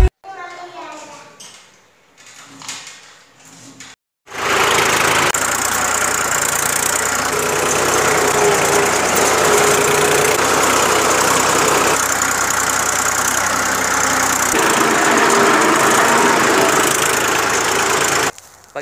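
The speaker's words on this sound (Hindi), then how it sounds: "मैंने तो ट्रैक्टर चला लिया है" A loud tractor engine starts up and runs steadily with a low, rumbling idle, close by and continuous, after a brief stretch of other noise at the start.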